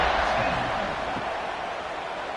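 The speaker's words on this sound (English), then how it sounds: "this crowd is buzzing after that last score" A football stadium crowd buzzing after a score, a steady broad roar filling the space with no pauses, heard under a commentator's talk.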